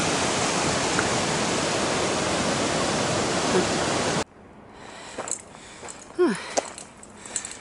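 Steady broadband rushing of Milky Creek fills the first half, then drops away to quieter trickling with a few brief nearby noises.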